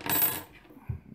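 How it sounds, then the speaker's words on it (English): A small metal nut pops out of a Cytac R-Defender G17 polymer holster with a sharp metallic clink, followed by a quieter light tap as it settles, close and brief. "you have to pop out the nut"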